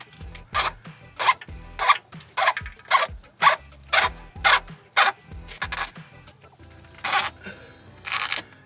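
A new fuel filter on an LMM Duramax diesel is twisted on by hand. Each turn gives a short scraping, rubbing burst, about a dozen in a steady rhythm, close by and fairly quiet.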